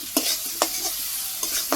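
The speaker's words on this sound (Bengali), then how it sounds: "সরিষা দিয়ে দিতেছি, সরিষার সাথে একটু কষিয়ে নিই" Potatoes sautéing with mustard paste in a pan, with three sharp stirring scrapes over a soft continuous sizzle, close and fairly loud.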